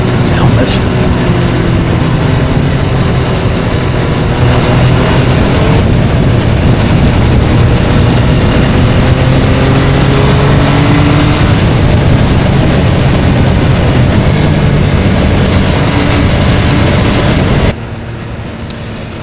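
Loud, sustained engine roar from an MV Agusta three-cylinder motorcycle being ridden on Cascades roads, with steady wind rush throughout and rising and falling revs, dropping to a quieter tone near the end.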